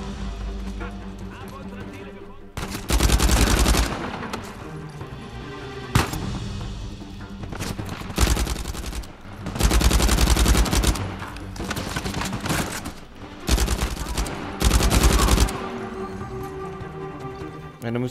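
Bursts of automatic gunfire crackle in Uncharted 4, with several loud, dense volleys spaced a few seconds apart over a steady game background and quieter stretches between them.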